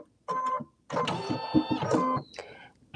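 A home sewing machine runs in short bursts while stitching a quilted sewing machine cover, two quick whirring runs separated by brief pauses, close and fairly clear with no talk.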